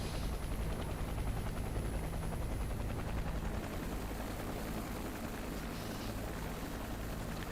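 Simulated helicopter in the Prepar3D v5 flight simulator, a steady dense rotor and turbine drone with fast chopping beat, constant and fairly loud throughout.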